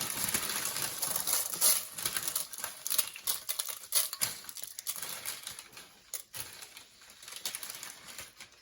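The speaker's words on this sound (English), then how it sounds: "I'm going to go ahead and throw my chilies in here." Chilies tossed into a hot pan set off a dense, steady crackling sizzle of frying, with rapid spitting pops over the whole stretch, moderately loud and close, with no talking.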